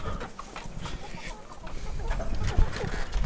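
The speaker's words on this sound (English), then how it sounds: "We've got a broody hen in here." A broody hen clucks in a shed, soft and close, with scattered low clucks and rustling over a noisy background, while a person talks nearby.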